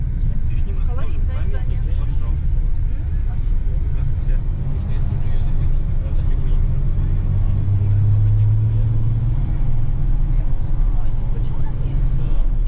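A car drives along a road in Karaganda, Kazakhstan, with a steady, loud low engine and tyre rumble heard from inside that continues without a break.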